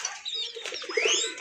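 Naira pigeons, deshi birds, coo softly while other bird chirps sweep through. A brief flutter of flapping wings comes through near the middle of the moment, with no talking.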